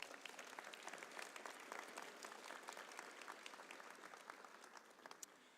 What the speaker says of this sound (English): Let's give all of our award winners a big round of applause.